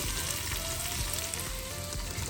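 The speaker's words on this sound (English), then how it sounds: "we're gonna saute those until they are light golden on the edges. So let's just break them up and stir it around" Onions sautéing in a pan with oregano sizzle in a continuous, fairly quiet hiss close by, with faint stirring underneath and no speech.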